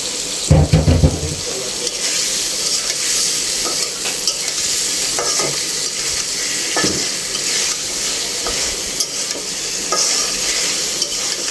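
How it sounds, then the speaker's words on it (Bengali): Fish going into a spice paste that is being fried in a pan, with a steady, close sizzle and occasional stirring scrapes running throughout and a brief louder clatter near the start. "আমার মশলা কষানো হয়ে গেছে, আমি এখন যে মাছটা দিয়ে দিব।"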